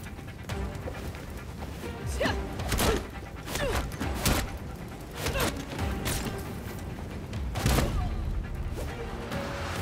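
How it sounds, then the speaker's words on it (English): Fireworks and explosions go off in the Gotham Knights video game, a burning building scene with a series of sharp bangs and crackling bursts scattered over a rumbling, busy background. "Enjoying the fireworks."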